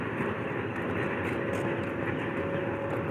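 A passing train makes a steady, loud, broadband rumble and roar that holds level throughout, with no other distinct sounds standing out.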